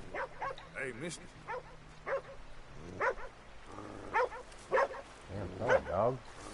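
A dog in the Red Dead Redemption 2 video game barks and yips in short bursts at moderate distance, mixed with a man's speech and other game sounds.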